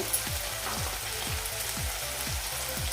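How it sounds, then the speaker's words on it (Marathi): Tomato and onion masala sautéing in a pan for bhindi (okra) masala, a steady close sizzle and crackle of frying with faint low scraping strokes repeating about every half second, no voices. "टोमॅटोसुद्धा आपला यामध्ये परतून झाला आहे"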